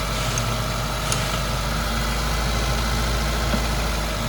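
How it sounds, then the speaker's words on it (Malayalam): A Hyundai i10 engine, with a misfire, idles at close range while its throttle body is adjusted after cleaning. It gives a steady, even mechanical hum with no one talking. "എൻജിൻ സൗണ്ട് കുറഞ്ഞു"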